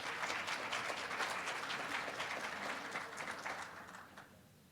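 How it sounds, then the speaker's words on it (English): Audience applause for speakers at a plenary panel on reparations, sustained clapping from a modest crowd that gradually thins and fades toward the end. "Please make a round of applause for our wonderful speakers today."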